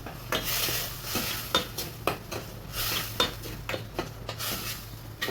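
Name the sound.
frying and stirring jackfruit with turmeric and salt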